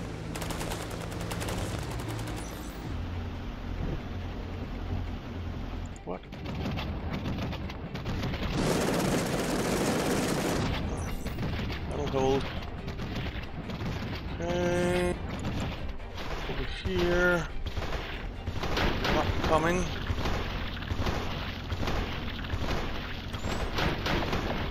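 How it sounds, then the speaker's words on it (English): Mortars firing in the video game Cepheus Protocol: repeated booming gunfire-like bursts and rumbling blasts over about 25 seconds, dense and loud, with a broad roaring wash mid-clip and scattered sharper cracks afterward. "Alright, mortars are firing."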